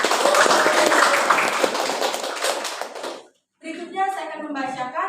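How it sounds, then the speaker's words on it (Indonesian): An audience at a student debate on animal testing for cosmetics claps for a team; dense, lively applause for about three seconds that cuts to silence, followed by a voice speaking. "Boleh tepuk tangan kita semua."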